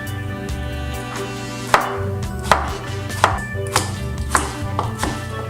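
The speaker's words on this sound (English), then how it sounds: "So I'm gonna chop this up as fine as I can." Knife chopping food finely on a board, a steady series of close, sharp taps under background music, with a few louder strikes standing out.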